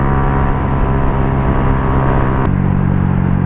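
Yamaha RFS150i motorcycle fitted with a racing-line exhaust idles and revs steadily nearby, a dense, buzzing exhaust drone that drops slightly in pitch partway through, with no voices.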